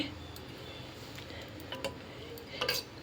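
A spoon stirs rice dumplings simmering in boiling milk in a pot, soft scraping under a low bubbling hum, with a few light clinks of metal against the pan near the end.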